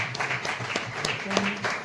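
An audience applauding, a short burst of dense clapping mixed with voices talking over it, moderately loud throughout.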